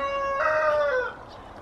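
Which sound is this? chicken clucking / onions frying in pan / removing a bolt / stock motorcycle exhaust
chicken clucking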